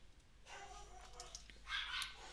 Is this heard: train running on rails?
no